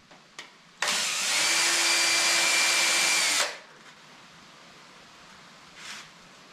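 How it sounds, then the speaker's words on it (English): A power drill with a 3/4 inch bit bores a countersink for a large structural screw head in a wooden post, a loud steady whine lasting about three seconds, then stopping, in a quiet space. "This 3/4 inch bit is so I can countersink the large head of the"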